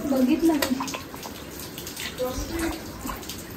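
Water is scooped and splashed by hand at a clear mountain spring beside a Shiva temple on a foggy Harishchandragad trek, giving a few close, uneven splashes and pours while a voice speaks faintly nearby.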